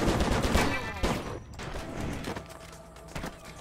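Rapid, dense gunfire from the Stranglehold video game, a loud sustained barrage of overlapping shots with heavy thumps that rolls on throughout without pausing, close and dominant in the mix.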